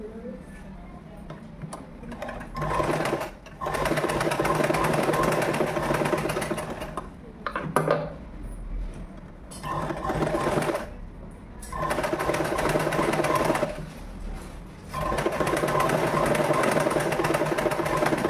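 A sewing machine stitches round the hem of a gathered umbrella frock in sustained whirring runs of rapid needle chatter, broken by short pauses, close and steady.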